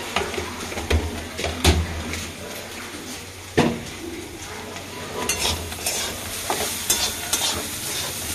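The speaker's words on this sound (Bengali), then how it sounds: "ভালো করে নেড়ে নেবো, নেড়ে ভেজে নেবো।" Sizzling of poppy seeds frying in a pan with repeated scraping stirs and a few sharp clinks of a utensil against metal, close and continuous.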